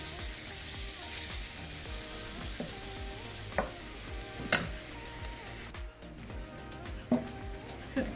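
Sausage and tomato pasta sauce with curry spice and garlic sizzles steadily in a pan, with occasional spoon knocks and stirring scrapes close by.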